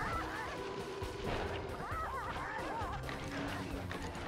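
Chickens squawk in the Sly Cooper video game: a busy chorus of honking, squawking fowl calls with thuds and whacks mixed in, loud and continuous under game sounds.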